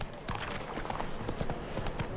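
Roach the horse's hooves clip-clop steadily at a walking pace in The Witcher 3, close and fairly loud over a busy background.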